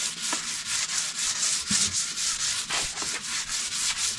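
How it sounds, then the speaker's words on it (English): Sanding a part inside a Montgomery 17 sailboat with 220 grit sandpaper, brisk rhythmic back-and-forth scratching strokes repeating several times a second, close and alone. "I'll give this a quick sanding here with some 220 grit paper"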